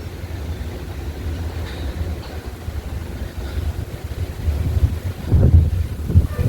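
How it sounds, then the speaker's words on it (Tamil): Strong wind buffets the microphone with low rumbling gusts that swell and grow heavier toward the end, with a faint wash of water behind, at a hill temple in Pulipakkam, Chengalpattu, India. "காற்று பயங்கரமாக அடிக்குது"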